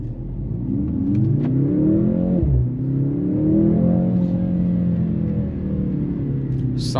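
A 2025 Mercedes-AMG C 63 S E Performance with a four-cylinder engine accelerating hard in Sport Plus mode, its loud engine note climbing through the revs with a quick shift break midway before pulling again, close and continuous with no talking.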